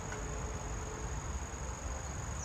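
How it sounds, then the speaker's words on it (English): A steady, shrill lyric cicada buzz drones high and continuous, filling the air before cutting off near the end. "Oh, I'm hearing the lyric cicada again."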